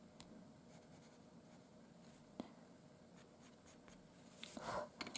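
Soft pastel dabs tiny dots onto Canson Mi-Teintes velvet paper, a faint close patter of light taps and scratches that grows busier and louder toward the end.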